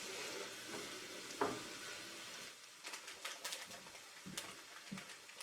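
Browned ground venison being stirred and spread around in a frying pan, faint soft scraping and light sizzling with a few quiet clicks of the utensil, low and close.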